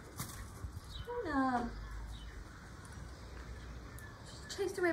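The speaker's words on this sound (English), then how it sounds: "She chased away my blackbird." A blackbird gives a couple of harsh, descending calls, one near and a fainter one later, over a steady background hiss.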